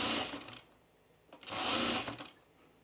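A sewing machine stitches stretchy plissé crinkle fabric in two short whirring bursts separated by a brief pause, quiet and close with no talking.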